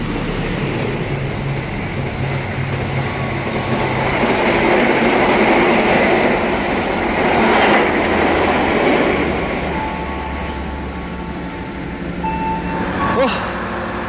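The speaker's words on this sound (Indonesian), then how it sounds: "ini ada kereta berjalan langsung Argo Bromo Anggrek" Argo Bromo Anggrek express train passing close by at an Indonesian station, a sustained loud rumble and rolling rail noise swelling through the middle and easing off, with a brief high squeal near the end.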